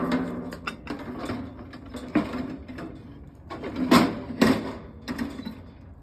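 Bean drum being loaded into a Ronco 5 lb electric coffee roaster, a run of close mechanical clicks, ratcheting knocks and metal clunks with a few louder bumps near the end, no talking.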